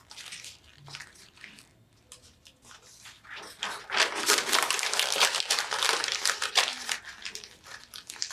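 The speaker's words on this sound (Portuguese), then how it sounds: "Amassar bem a folha para ela ficar bem pequenininha." Sheets of paper, some colored, crumpled by hand into a small ball: dry crinkling that starts soft and intermittent, then turns into dense, louder crackling for the second half, with no talking.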